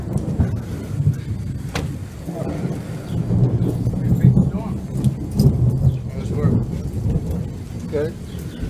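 A heavy thunderstorm pours steady rain while thunder rumbles low and close. The downpour hisses throughout, with faint voices briefly audible beneath it.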